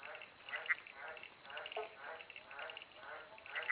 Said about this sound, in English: The frogs are going hard.